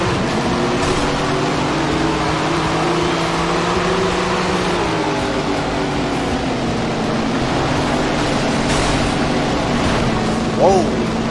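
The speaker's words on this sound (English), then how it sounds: "Listen to those engines as we get ready to go" Race car engines in Tony Stewart's All American Racing 2 drone steadily at the start of the A main, a continuous layered hum with slowly shifting pitch and a brief rise near the end, mixed under commentary.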